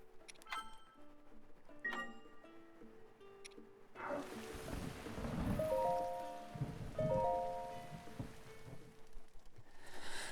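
Rain falling in The Legend of Zelda: Breath of the Wild, a steady soft patter that swells and thins over a background of game music tones, with no talk.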